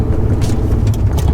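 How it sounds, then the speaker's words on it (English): A manual stick-shift car engine accelerating in second gear ahead of a shift: loud, steady motor drone with road noise throughout the short stretch. "if you go a little faster, you're going to want to change the gear again"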